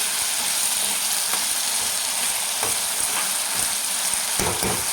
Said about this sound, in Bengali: আমি আবার সয়াবিন দিয়ে, আলুর সঙ্গে আবার সয়াবিন দিয়ে কষাই